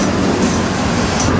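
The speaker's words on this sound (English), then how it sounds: "And I'm on this train." Freight train rolling out of Miami at about 15 mph in the dead of night, heard from on board as a steady, loud, broadband rumble and rattle of the cars with no pauses.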